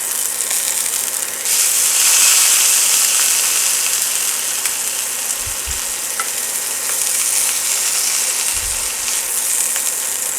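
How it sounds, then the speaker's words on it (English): A sous vide steak sears in a hot pan with a loud, steady sizzle and hiss close up, along with a couple of soft low thumps partway through. "you need to have a quick sear because you don't want it to cook any more than it already has"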